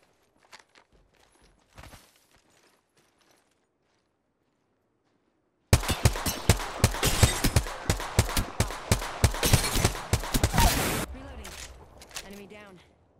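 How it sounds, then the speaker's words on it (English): Rapid gunfire from a weapon in the video game Apex Legends. After a few quiet seconds, a dense string of close, loud shots fires in quick succession for about five seconds, then trails off into fainter sounds. "I'm taking shots."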